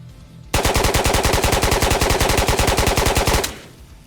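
AK rifle fired full-auto at close range in Ghosts of Tabor, a loud rapid stream of about thirty evenly spaced shots lasting around three seconds, then stopping abruptly into a short fading tail.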